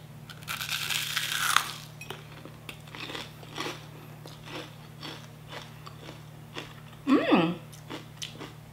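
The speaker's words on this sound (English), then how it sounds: "I'm gonna try out this onion ring" Crisp crunching bites into a beer-battered onion ring with spicy ketchup, a loud burst early on, quieter chewing after it and another sharp crunch near the end, eaten close up without talking.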